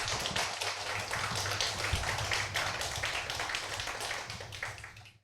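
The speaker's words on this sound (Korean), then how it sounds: "여러분 큰 격려의 박수 한번 부탁을 드립니다" An audience at a philosophy humanities forum applauds its four lecturers, dense sustained clapping from a crowded hall that runs steadily and fades slightly toward the end.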